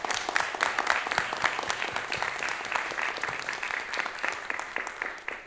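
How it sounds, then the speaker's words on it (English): An audience at a talk on U.S.–El Salvador relations applauds the ambassador with a steady, moderately distant round of clapping that continues throughout without talk. "A round of applause for the ambassador"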